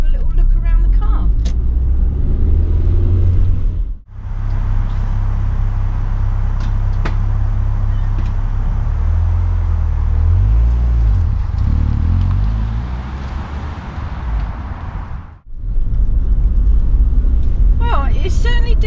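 A Rover 45 car on a short drive around the block, with a steady low engine and road rumble from inside the cabin that dips briefly twice.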